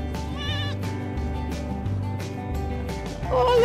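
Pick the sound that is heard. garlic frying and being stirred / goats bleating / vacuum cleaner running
goats bleating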